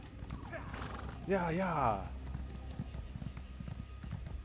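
A horse in a Nightblade role-playing game whinnies once in a wavering, rising neigh, with clip-clop hoofbeats running beneath throughout, and a player speaks briefly at the start.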